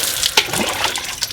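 Water splashes and pours during bathing in short, close bursts, fairly loud and wet, with no voices over it.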